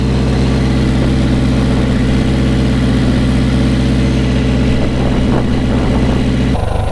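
A BMW K100 motorcycle engine idles loudly and steadily up close, a rough low throbbing hum that cuts off abruptly near the end.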